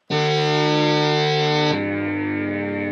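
Sustained synthesizer tone run through a gritty, edgy distortion effect, loud and buzzing, holding one pitch before shifting to a lower note partway through, with no voices.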